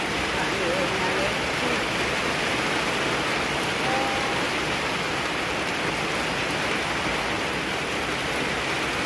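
Steady rain falls on a rice-paddy farm in rural Thailand in June, a dense, even hiss of drops that holds at the same loudness throughout with no voices over it.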